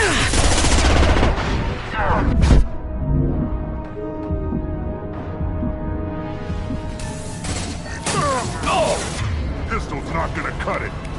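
Weapon fire in the Mass Effect 2 video game, a loud burst of shots at the start, then a quieter stretch with humming tones and spoken lines, before more shooting and game voices return.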